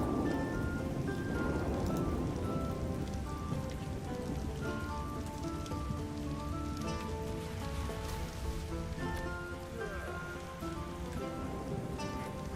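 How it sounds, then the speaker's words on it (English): Steady rain pours in Ark Survival Ascended over wooden castle structures, a dense continuous hiss of drops with a soft musical tone running underneath, close and even throughout with no voices. "I'll just quickly show you how this reacts in the rain"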